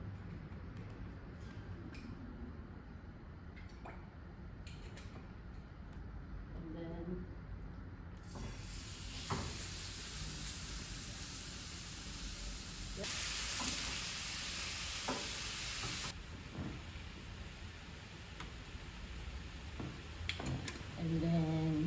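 Olive oil sizzles in a pan on a stovetop, a steady close hiss that swells louder partway through as food hits the hot oil, with occasional stirring clatter and no talk over it.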